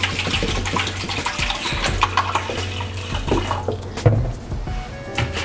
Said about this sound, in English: I'm gonna add water just to wash it.